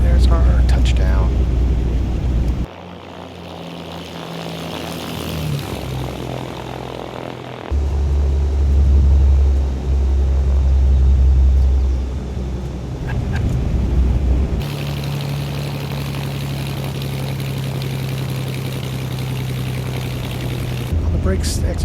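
A small propeller airplane in a flight simulator game touches down and rolls out on the runway near Gatlinburg, Tennessee, its engine droning loudly with shifting pitch and rumble as power changes, with someone talking over it.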